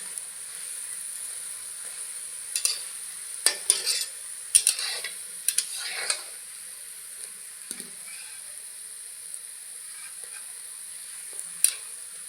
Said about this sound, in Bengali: আমি এগুলো উলট পালট করে লাল করে ভেজে নিয়েছি, উঠিয়ে নেব।